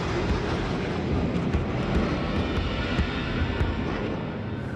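F-111 jet aircraft approaching for a belly landing, a loud, broad continuous roar of engine and rushing air that holds steady throughout, with no talk.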